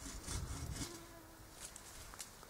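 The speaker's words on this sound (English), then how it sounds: "Now I'm being eaten by mosquitoes." Mosquitoes buzz at a quiet, steady level outdoors near a flowering spot, with a thin, continuous whine and small shifts as they move close by.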